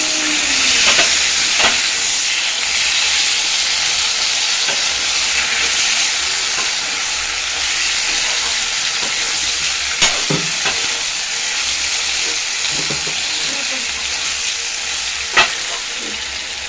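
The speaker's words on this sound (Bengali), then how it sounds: "এবার জিরা আদা বাটা দিয়েছি, কাঁচা লঙ্কা বাটা দিয়েছি, এই টমেটোটা দিয়ে একটু নাড়িয়ে দেবো" Tomato, cumin-ginger paste and green chili paste sizzle steadily in a hot pan while being stirred, with a dense continuous frying hiss and occasional scraping knocks, close and loud with no talking.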